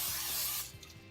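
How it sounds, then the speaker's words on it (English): Aerosol cooking spray hisses onto a baking pan in one steady, close burst for about half a second, then cuts off, leaving a few faint clicks and taps of the can. "spray it with cooking spray"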